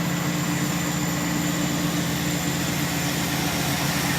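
Heavy truck engine labouring up the Alex Fraser bridge, a steady low droning rumble with constant road noise throughout, loud and unbroken, no talk.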